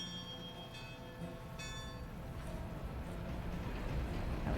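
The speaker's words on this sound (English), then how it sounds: "Now we've got a train rolling by." A train rolls past in the Railroader railway simulation game, a steady rumbling roar that builds gradually louder over a few seconds, with faint bell-like tones early on and no talking.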